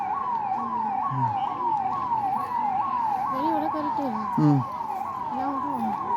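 A police siren wails in a fast, repeating up-and-down pattern, steady and fairly close, with muffled voices talking underneath.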